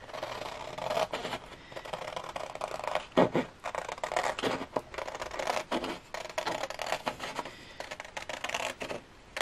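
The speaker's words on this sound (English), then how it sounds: "Now with my scissors, I'm going to cut this out." Scissors cutting out a paper print for a goggles craft, giving repeated crisp snips and rustling paper scrapes in an irregular rhythm, close and fairly quiet, with no talking.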